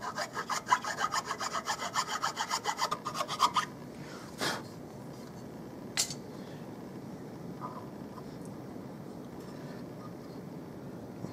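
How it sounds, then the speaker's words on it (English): A chainsaw file rasps in quick, steady back-and-forth strokes, scraping dust out of screw threads, then stops, leaving a faint background hiss with a couple of sharp clicks. "that is a chainsaw file, otherwise known as a redneck taper drill"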